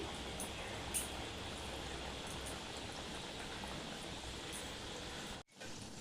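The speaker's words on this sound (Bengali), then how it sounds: "এইভাবে আমি খাজাগুলো একে একে ভেজে নেব" Khaja pastries frying in oil over a low flame, a steady, even sizzling hiss that holds throughout, with a brief drop near the end.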